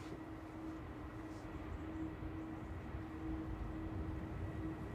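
An Aer Lingus airliner taxiing at Manchester Airport, a steady distant engine rumble and whine holding a constant tone, low and continuous throughout.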